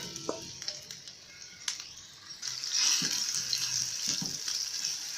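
Chicken pieces hit about two tablespoons of hot oil in a frying pan, and a bright, continuous sizzle swells partway through, with a few clinks and stirring knocks below it.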